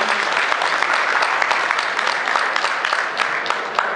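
Dense audience applause fills a women's community stage event in Washington, DC, steady and sustained throughout with a few sharper claps standing out, no voices over it.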